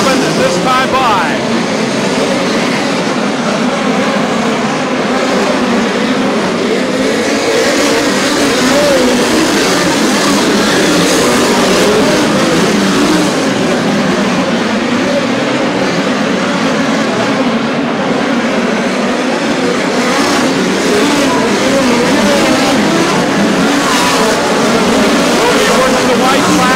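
Midget race cars in a POWRi Lucas Oil National Midgets event on a dirt track, a loud continuous engine roar from the pack running throughout, with an announcer talking over it.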